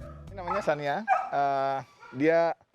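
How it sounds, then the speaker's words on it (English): A rescued dog evacuated from a COVID patient's home barks and whimpers up close, a few short yips and whines in quick succession with high-pitched tonal cries. "This dog is called Apnea. It was evacuated with 9 other dogs and are all here"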